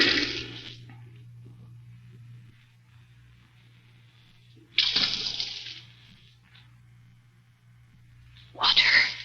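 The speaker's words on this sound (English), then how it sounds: "Water." A splash of water in a radio drama pit comes in three separated bursts, each a brief rushing spill over a low steady hum.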